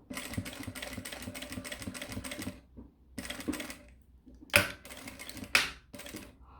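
A sewing machine stitches a seam on a mini backpack in fast rhythmic bursts of needle clatter, stopping and restarting, with a couple of sharp clicks and knocks in the pauses.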